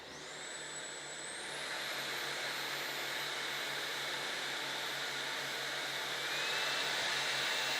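LG CordZero A9 cordless vacuum cleaner running, with its motor spinning up into a high steady whine and airy rush that continues alone and grows slightly louder toward the end.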